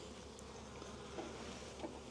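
Honeybees drone steadily inside an insulated condensing hive opened for a first spring inspection, a faint, continuous hum with no talk over it.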